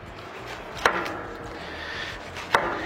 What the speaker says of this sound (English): Now we're going to cut some slices, maybe about a ½ inch thick is all.